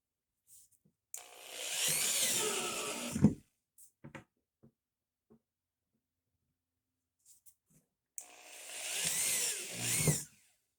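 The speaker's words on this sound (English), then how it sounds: "I'm just going to use a small pilot drill." A small pilot drill boring into a clay-processing machine part in two bursts, each whirring for about two seconds, separated by quiet handling clicks.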